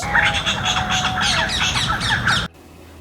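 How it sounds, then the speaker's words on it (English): Harsh, loud chirring jungle owlet calls in a rapid chuckling series, close and dense for over two seconds, then stopping abruptly. "The call of these owlets is a harsh and loud chirring and chuckling sounds."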